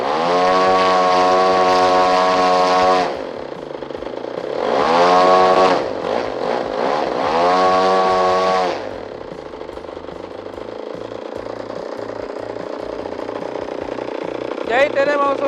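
Carbureted gasoline engine revving from idle up to 5080 RPM in a workshop, with repeated loud rising throttle bursts that fall back to a quieter idle, ending in a steady low idle.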